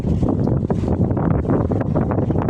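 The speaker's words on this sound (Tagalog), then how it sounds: "Sobrang lakas ng hangin." Strong wind at sea aboard a boat near El Nido, Palawan, roars and buffets a nearby microphone in continuous gusts, with a low rumbling wash like open water beneath.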